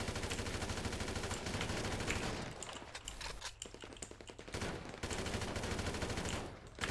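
Rapid rifle fire in a GTA 5 Online team deathmatch, loud automatic bursts with short breaks, the shooting dipping briefly midway before the sustained volleys pick up again.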